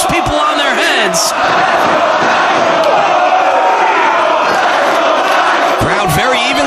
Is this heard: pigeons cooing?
no